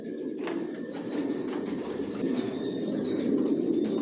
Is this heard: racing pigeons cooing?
yes